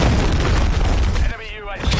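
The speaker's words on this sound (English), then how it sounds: "Hostile cruise missile incoming" A cruise missile blast in the shooter game Modern Warfare 3 booms loud and broadband for over a second under continuous battle noise, then drops to a brief lull before the din returns.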